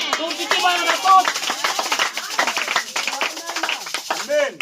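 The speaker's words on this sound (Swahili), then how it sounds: "Tumsikie Bwana makofi." A church congregation at a revival service claps in a rapid, uneven patter of many hands, mixed with shouting and talking voices.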